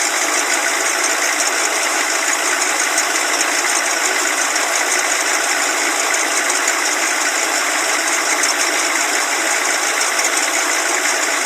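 A 1986 Chevrolet M1008 military diesel truck idles steadily and loudly without a break, a constant rumbling clatter with a bright high-pitched whine over it.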